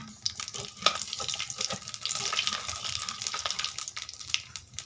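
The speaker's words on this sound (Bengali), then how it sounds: "এই তেলের মধ্যে দিয়ে দিচ্ছি কালো জিরে" Nigella seeds tempering in hot oil give off a crackly, spattering sizzle with small irregular pops, fairly soft and close, with no voices.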